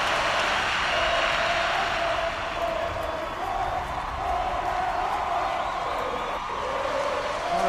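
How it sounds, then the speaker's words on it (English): Steady crowd cheering and roar from a football video game stadium, a continuous loud wash of voices throughout with a brief swell near the start. "The crowd here quite captivated by that."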